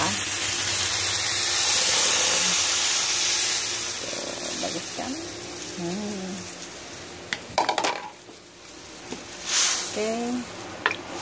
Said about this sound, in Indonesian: kita tambahkan air kira-kira 500 ml air